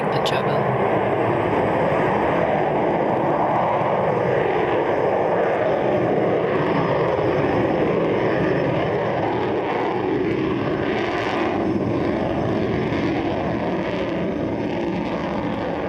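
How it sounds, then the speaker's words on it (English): A Rocket Lab Electron rocket lifts off from the pad at Launch Complex 1, producing a steady, dense roar that fills the whole span without letup while a commentator speaks over it. "Electron has lifted off from the pad at Launch Complex 1 and has commenced its 9-minute journey"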